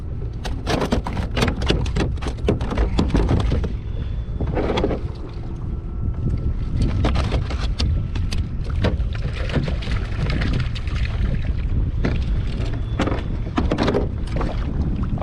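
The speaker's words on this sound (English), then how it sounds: "as you guys can tell, it's kind of windy out here" Strong wind buffeting the microphone on open water offshore from a Hobie Compass pedal kayak, a loud continuous roar with gusty bursts and faint water slaps against the hull, no voices.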